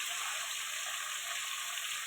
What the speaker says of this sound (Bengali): একটু হলুদ আর লবণ দিয়ে আলুটা ভেজে নেব